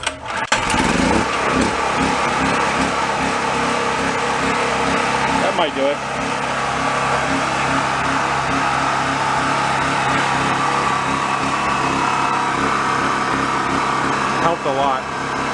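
A seized Chinese generator engine starts and keeps running, a loud, steady mechanical drone that lasts the whole stretch with a brief dip partway, while someone talks over it.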